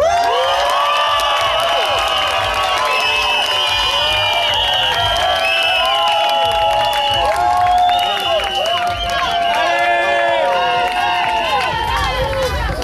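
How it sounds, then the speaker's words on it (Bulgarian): A crowd at a flair competition, the Vanilla Open, roars for a competitor with loud sustained cheering, high shouts and whoops, and some clapping mixed in. The noise stays strong throughout. "Сега да чуем вашите аплодисменти за Ро!"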